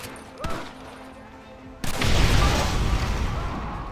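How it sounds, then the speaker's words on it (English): A Gatling gun opens up in Red Dead Redemption after a sharp crack, and loud, dense, sustained fire continues to the end. "Use the Gatling gun to eliminate his men."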